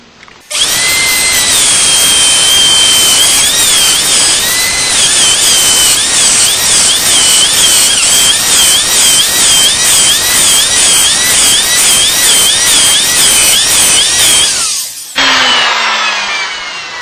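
A boring bit cutting out Infiniti QX56 wheels, a loud continuous high-pitched grinding whine with wavering squealing tones running steadily for about fourteen seconds before stopping abruptly.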